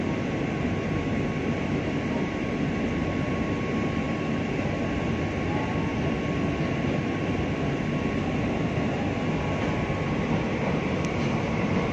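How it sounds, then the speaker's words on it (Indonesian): A KRL electric commuter train with four cars on the Solo to Yogyakarta line rolls along with a steady, loud, unbroken rumble that holds constant throughout, with no voices. "This train has 4 cars."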